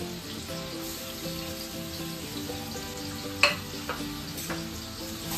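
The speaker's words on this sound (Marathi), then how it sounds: "आणि कांदा छान असा परतवून घ्यायचा आहे." Finely chopped onion sautéing in hot oil with mustard seeds and asafoetida, a soft steady sizzle with occasional stirring clicks and one sharp tap, faint and somewhat distant beneath a humming background, no speech.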